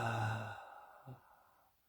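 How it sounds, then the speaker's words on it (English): One deep, slow breath let out by a person during a guided meditation, a soft voiced sigh close up that fades into quiet, followed by a faint short breath. "Exhale that out."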